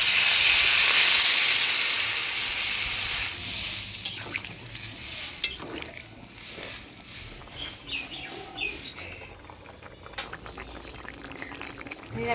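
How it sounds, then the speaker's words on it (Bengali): Water poured onto jackfruit, potato and soybean curry frying in spices bursts into a loud hissing sizzle that fades over a few seconds into softer bubbling, with scattered scrapes and clicks from stirring. "এবার জল দিয়ে দিব।"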